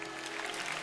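Congregation clapping during a Baptist church service, a dense, steady wash of many hands at moderate level, continuous throughout the short burst.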